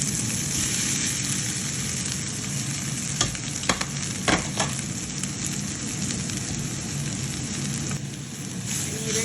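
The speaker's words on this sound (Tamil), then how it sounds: "அப்படியே வறுத்து இறங்கிடுவேன்" Stingray fish varai, Jaffna style, frying in a pan: a steady, dense sizzle runs throughout with a few sharper crackles and scrapes of stirring in the middle, close and fairly loud, with no voices.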